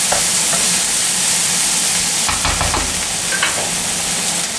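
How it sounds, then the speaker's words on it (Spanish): Zucchini, carrot and peppers frying in a pan, a loud steady sizzle with intermittent scraping and tossing as a utensil stirs the vegetables. "Acabo de añadir el calabacín. Revolvemos y lo vamos mezclando bien para que se integre y se vaya cocinando."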